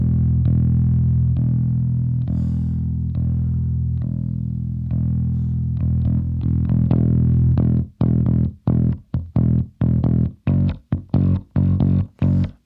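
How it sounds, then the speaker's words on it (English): A solo bass guitar track pulled out of a full band mix, sustained low notes through the first half giving way to short, punchy staccato plucks with gaps between them, loud and close with no talk. "We also have bass guitar on this track."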